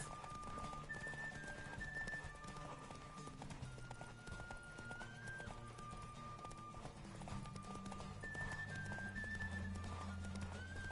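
Rhythmic hoofbeats of a galloping horse in the video game The Witcher 3 pound steadily under game music with whistling melodic tones, continuing without pause.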